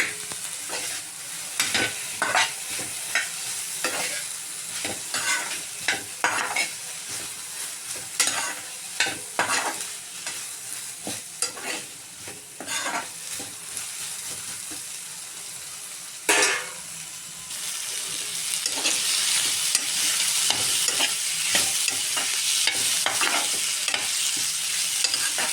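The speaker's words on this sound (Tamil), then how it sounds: "இப்போ நான் கறிவேப்பிலை ஆட் பண்ணிக்கிறேன். நல்லா ஒரு கைப்பிடி அளவு கறிவேப்பிலை." Curry leaves, a generous handful, frying in hot oil for Tamil pepper kulambu (milagu kulambu), with loud crackling sizzle and repeated scraping stirs throughout, the spitting growing denser and steadier toward the end; no talk.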